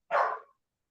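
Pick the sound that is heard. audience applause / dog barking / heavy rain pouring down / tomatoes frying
dog barking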